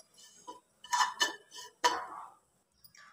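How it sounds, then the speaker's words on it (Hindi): Spiced pea stuffing for kachori being mixed in a pan, a few sharp metallic scrapes and clinks of a spoon against the pan, close and clear with quiet gaps between strokes. "और इन सारी चीज़ों को अच्छे से मिक्स कर देंगे।"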